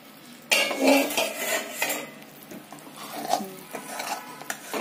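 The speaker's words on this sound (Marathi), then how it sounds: "आता आपण याच्यावरचं झाकण काढून घेणार आहोत।" A metal lid lifted off a pan of cooked raw mango bhaji, followed by clattering utensils and stirring against the pan, loud at first and then continuing in lighter scraping taps.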